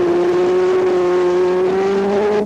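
A superbike motorcycle engine screams at high, steady revs on a race track, its loud sustained tone rising slightly in pitch for over two seconds before cutting off abruptly.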